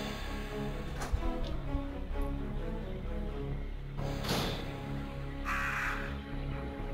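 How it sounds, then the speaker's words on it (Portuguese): Crows cawing in the Resident Evil 2 video game, several harsh caws spread through the stretch over a steady droning game ambience. "São as benditos dos corvos."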